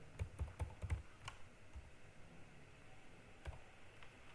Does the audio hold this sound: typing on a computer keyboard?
yes